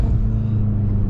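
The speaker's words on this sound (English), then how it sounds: "you can just hear this car, man. It sounds absolutely mega." A BMW F10 M5 engine rumbles loud and close in a short, sustained deep roar under load, with no talk over it.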